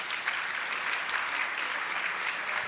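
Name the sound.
audience applause for panelists at town hall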